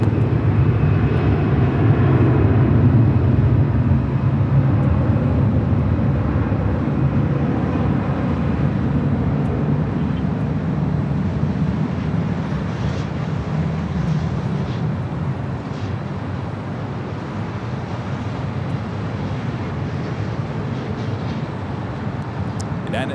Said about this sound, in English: United Express EHS arriving there on 24 right